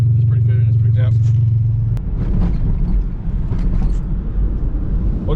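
A modified sleeper Ford Taurus SHO coasts home, first with a steady low engine drone inside the cabin, then a rougher, fluttering road rumble. A voice briefly comes through over the noise.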